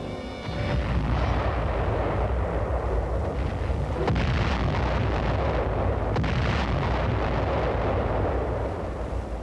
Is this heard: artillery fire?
yes